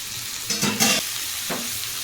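Chopped pumpkin leaves are stirred into onion and garlic frying in a pan, making two short bursts of sizzling and scraping over a quiet background hiss.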